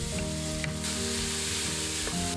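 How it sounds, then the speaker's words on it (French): Chopped onions fry in vegetable oil and butter in a large pot over medium heat, a close, steady sizzle with faint stirring scrapes and no voices. "Ajoutez le beurre, puis ajoutez les oignons hachés."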